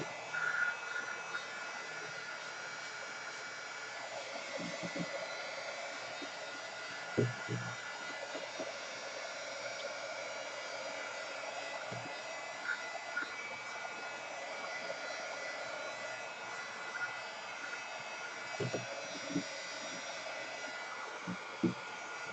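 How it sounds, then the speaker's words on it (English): A heat gun blowing steadily while drying water-soluble paint, an even, continuous whirring hum at moderate level with a few faint bumps and clicks. "So grab the heat gun and dry everything out."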